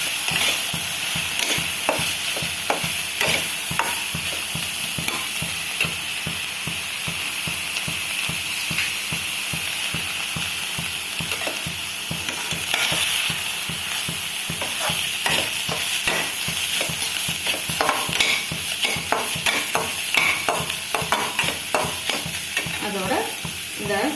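Ground chicken for crispy fried momos sizzles in a pan while a spoon scrapes and stirs in a steady rhythmic pattern, close and continuous with no voices.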